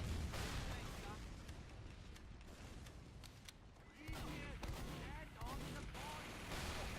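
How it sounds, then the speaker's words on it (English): A Demoman fires Loose Cannon shots in a Team Fortress 2 match on cp_gullywash_final1. Several heavy booms land over dense game noise, with a player talking throughout. "I shoot a couple of loose cannons"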